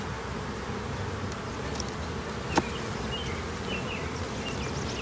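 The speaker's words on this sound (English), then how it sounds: "Look at all those bees." A dense, steady buzz of many honey bees swarms close by at an open hive, with a faint click partway through and no talking.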